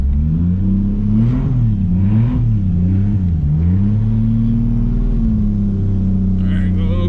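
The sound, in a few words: Toyota Supra MKIV engine revving during a burnout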